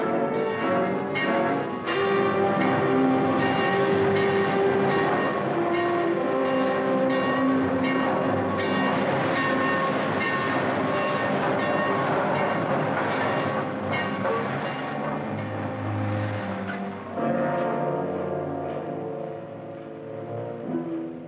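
A train running on rails in a 1950 Western film, a loud, steady rolling rumble with sustained tonal ringing layered over it throughout, and no voices.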